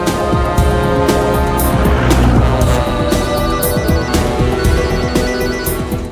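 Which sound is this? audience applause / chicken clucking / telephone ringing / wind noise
telephone ringing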